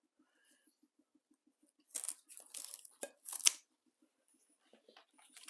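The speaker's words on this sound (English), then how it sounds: "I'm gonna cut that one off." A damaged houseplant stem is snipped off with a few crisp cuts and brief bursts of leaf rustling, close and quiet against a faint, evenly spaced ticking.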